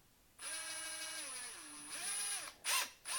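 A Ryobi 18V brushless impact driver (R18IDBL-0) spins up freely with a steady whine and no load, dips lower in pitch, then rises again before a short final burst, loud and close with no speech.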